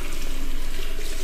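Water runs steadily from a tap in a derelict subway station in the horror game Homeless, a constant close hiss and splash with no break.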